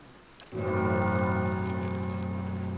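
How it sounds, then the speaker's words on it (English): A deep bell in the video game Pillars of Eternity strikes once and tolls with a long, rich ringing hum that holds steady and slowly fades, heard alone over faint rain-like background noise. "Oh, the bell rang."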